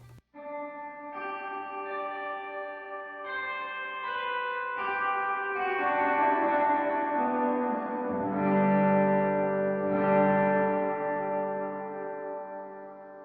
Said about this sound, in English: I actually have a wet hall setting, which is just cuts out all my dry signal, and it's solely just the reverb.